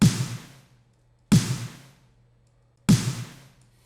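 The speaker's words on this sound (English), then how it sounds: "I'm gonna add all the snares together, all 24 of them. So this is what your snare sounds like now." A huge layered snare drum built from 24 snares mixed together strikes three times at an even, slow pace, each hit loud and punchy with a short ringing decay, alone with no talk.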